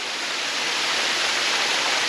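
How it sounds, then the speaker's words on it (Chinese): Dajianshan waterfall in Xizhi roars as a dense, continuous, even wash of falling water, loud and close with no other sounds. "看到这样的一座瀑布，我觉得已经很心满意足了"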